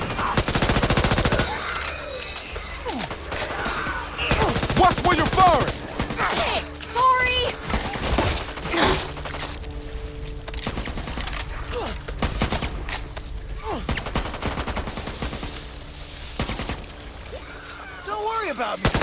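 Gunfire in the video game Back 4 Blood: loud, dense automatic bursts and single shots that keep repeating close up throughout, mixed with voices shouting in the game.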